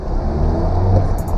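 A car engine rumbles and pulls steadily as the driver accelerates hard to merge into another lane in traffic, a loud, continuous low drone heard from inside the vehicle.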